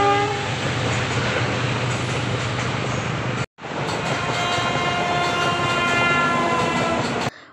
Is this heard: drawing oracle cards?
no